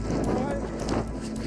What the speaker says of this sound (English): as you can tell, quite windy